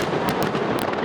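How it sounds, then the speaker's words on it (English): Dense crackling and popping of a New Year's pyrotechnic display along the River Thames in London, a continuous loud wash of bursts with sharp cracks standing out. "London rang in the new year with a pyrotechnic display along the River Thames"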